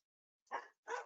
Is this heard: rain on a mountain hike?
no